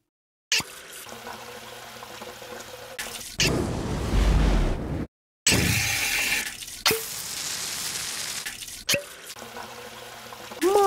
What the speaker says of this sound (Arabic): مي من الحنفية